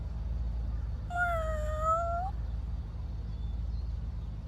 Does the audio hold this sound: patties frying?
no